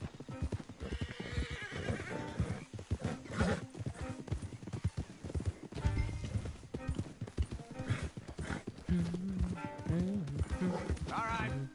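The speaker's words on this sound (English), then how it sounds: "Don't want the horses clopping around outside the window." Horse hooves clop in Red Dead Redemption II, a busy, close run of hoofbeats mixed with neighs and whinnies, with game dialogue sounding over them throughout.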